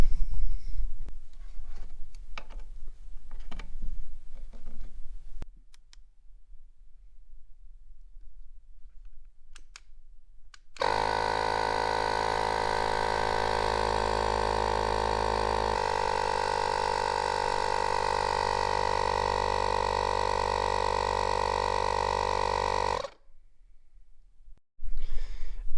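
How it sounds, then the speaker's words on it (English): Air pumped into a car's intake system during a boost-leak test makes a loud, steady droning hum that lasts about twelve seconds and then cuts off, after some quiet clicking and handling noises. "I think it's time we pump it full of air and see if it's leaking"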